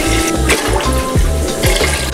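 Water pours in a steady, loud, close stream into a large pot while chanko nabe is made with soy sauce, mirin and broth, a continuous gush with a slight gurgling pulse.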